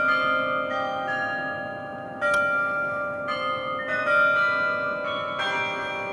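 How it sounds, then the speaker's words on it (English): The 49-bell carillon in the Oslo City Hall tower rings out a theme, clear sustained bell tones stepping through a melody with lingering overlapping resonance, heard alone. "every hour, the 49 bells of the tower play popular theme music for the time of year"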